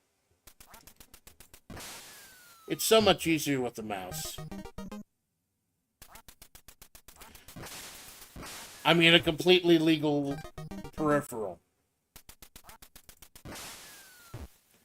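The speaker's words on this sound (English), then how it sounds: "trying to shoot these damn ducks" Ducks from the NES game Duck Hunt quack in two loud, rapid bursts, with someone talking over and between them.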